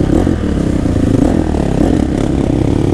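A 2014 Honda 450er ATV engine runs loud and close on a muddy spring trail ride, a continuous rough, revving roar with slight surges and no talking.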